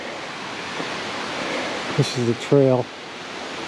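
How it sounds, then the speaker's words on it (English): Steady broadband rush of the waterfall at Cataract Falls on Mt. Tamalpais fills the trail, a constant wash of falling water heard near and even throughout, with brief speech over it. "and this is some of the waterfall."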